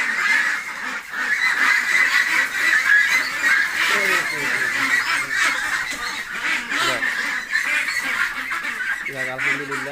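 A medium-quality duck being weighed, about 2860 grams, with repeated nasal honking quacks close by over a busy background, ending in a louder quack.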